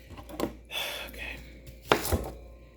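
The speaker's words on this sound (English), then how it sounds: "cut that up right here where I'm at." A knife chopping a small onion for smothered turkey wings, a few sharp, close cuts spaced unevenly, with quiet rustling between them.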